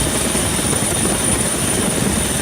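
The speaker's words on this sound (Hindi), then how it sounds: "राहत और बचाव टीमों ने हेलीकॉप्टरों के जरिए बाढ़ में घिरे लोगों तक खाने पीने की चीजें और पानी पहुंचाया" A relief and rescue helicopter delivering food and water over flooded areas in Sri Lanka after Cyclone Ditwah, its loud continuous rotor chop and engine roar steady and close throughout before cutting off abruptly.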